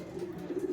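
A racing pigeon, just home from a derby, gives a single soft, low cooing call close by, brief and quiet with no voices over it.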